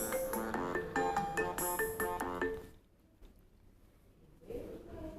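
A loud electronic phone ringtone plays a bright repeating melody, then cuts off into near silence before faint background noise returns.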